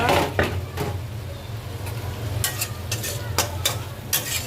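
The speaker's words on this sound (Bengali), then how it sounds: "একটু কষিয়ে নেব" Small native koi fish sautéing in a pan: a steady, close sizzle, with spoon scrapes and clatter from stirring that come in bursts.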